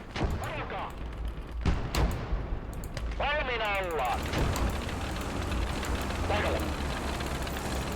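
Artillery and gunfire from a battle in the video game Motherland: sharp booming blasts near the start over a steady rumble of distant fighting, with warbling tones and indistinct shouting.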